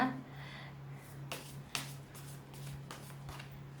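Tarot cards shuffled and drawn for a reading, with several crisp slaps and flicks of card stock at uneven intervals over a steady low hum, close and moderately quiet.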